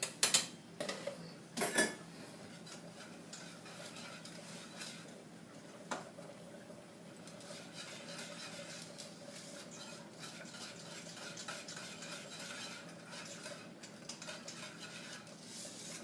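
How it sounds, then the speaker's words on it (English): Macaroni being stirred in a pot for old-school mac and cheese, with a few sharp utensil clanks at the start and then a steady, soft scraping and bubbling that runs on without talk. "Keep stirring the macaroni's coming along good."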